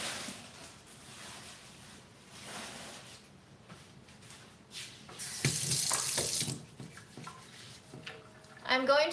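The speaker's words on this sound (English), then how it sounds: "I'm going to rinse it" Water runs from a tap while something is rinsed at a sink, a steady hiss that swells and splashes louder midway and toward the end, with a person speaking through it.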